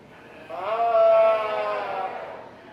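Sheep at a livestock show give one long, loud, wavering bleat that starts after a brief pause and holds for about two seconds, close to the listener, with no talking.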